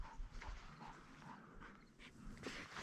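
A hunting dog out in the field in Montana whimpers and pants, soft, faint and fairly close, with short breathy pants and a few thin whines recurring.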